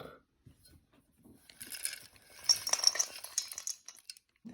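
A spoon clinks and scrapes against a bowl while stirring a homemade casserole mix with stuffing, scattered light taps building into busier stirring and clattering.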